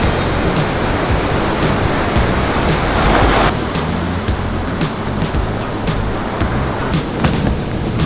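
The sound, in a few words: ocean waves at Malibu beach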